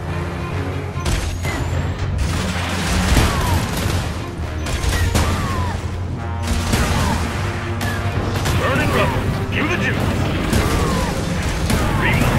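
Dense, continuous barrage of explosions, booms and rapid gunfire from a base under attack in the strategy game C&C Rivals, with mechanical unit noises throughout and a steady loud roar of battle.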